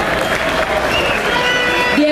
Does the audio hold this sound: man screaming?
no